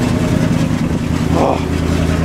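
A 1974 Dodge with a 318 V8 idles steadily just after a cold start on a chilly day, a deep, even rumble with a small exhaust leak, loud and close throughout.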